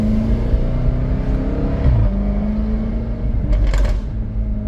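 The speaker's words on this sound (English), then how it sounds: "Just hear those crackles." A 2019 Jaguar F-Type SVR engine revs and drops with a low steady drone, then a brief burst of crackling pops from the exhaust near the end.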